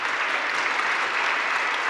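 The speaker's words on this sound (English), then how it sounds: "please share applause with our guests" Steady applause from a conference audience thanking panel guests, dense and even clapping throughout with no talk over it.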